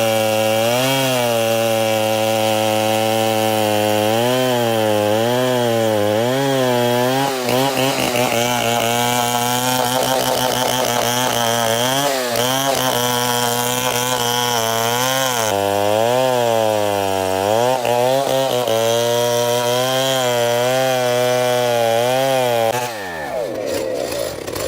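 A giant chainsaw stump-removal machine cuts into a tree stump, its loud engine droning with a steady whine that rises and falls in pitch throughout, then cuts off abruptly just before the end.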